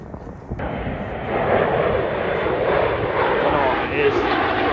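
A big propeller plane flying overhead, its engine drone swelling from moderate to a loud, steady roar that holds close and sustained, with someone talking under it.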